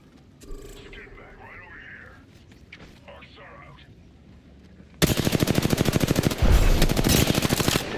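Rapid automatic gunfire in a mecha shooter video game bursts in after a stretch of quieter game sounds and soft speech, then continues as dense, loud rattling volleys to the end.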